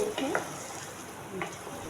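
Vegetables with added tomato sauce frying and being stirred in a pan, with a soft, steady sizzle and a couple of brief scraping stirs.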